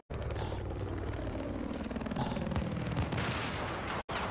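Battlefield 4 combat with a hostile helicopter, its rotor drone running beneath a dense wash of gunfire and explosions, loud and continuous with short bursts throughout.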